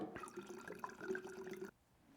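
About 16 ounces of water is poured into a measuring container, giving a short, close, bubbling trickle with small splashes that stops abruptly and leaves near silence.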